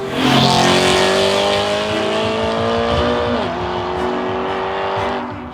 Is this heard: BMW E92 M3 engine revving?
yes